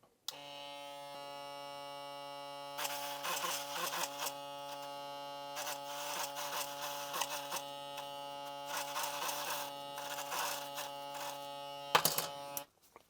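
An Andis Recon electric hair clipper buzzes steadily and close, with a constant motor hum that roughens and pulses as the blade cuts through hair, then stops near the end.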